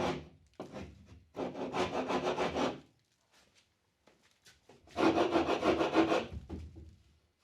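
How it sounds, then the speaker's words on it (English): Scraping wall texture off drywall with a tool, in long rough rasping strokes up close, separated by brief pauses. "This one kind of felt like more of like it's scraping the texture."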